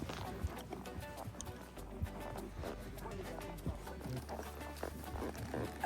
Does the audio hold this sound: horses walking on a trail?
yes